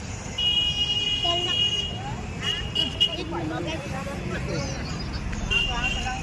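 Road traffic passes nearby with engine rumble and several car horns tooting in short bursts, while people talk over the busy street.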